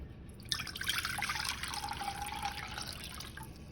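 Three cups of water poured from a container to make au jus for French dip sandwiches, a steady splashing, trickling stream close by that runs continuously without pause, with no talking over it.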